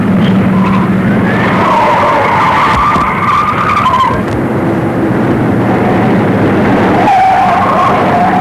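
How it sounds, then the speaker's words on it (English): Speeding cars in a 1940 police chase screech with skidding tires, long wailing squeals sliding up and down in pitch over a loud engine roar, one skid fading before another starts near the end. "Intercept 2 speeding cars headed east, now being followed by police car number 34"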